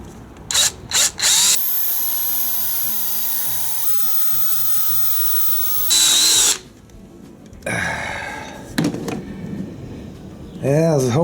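Power drill boring with a brand new starter bit, a loud high whine running for several seconds with a brief pitch shift, bracketed by short bursts and clatter, with someone speaking nearby afterward.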